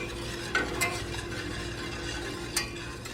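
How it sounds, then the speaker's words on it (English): A spoon stirs a sugar mixture in a pot on the stove as it comes up to a light boil, a soft continuous scraping and faint bubbling with a few sharper clinks against the pot, close and quiet. "you wanna make sure you keep mixing it because you don't want your sugar to burn"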